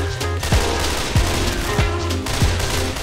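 Gunfire aimed at a witch in a video game: four loud, evenly spaced shots over a steady low hum, with no voices.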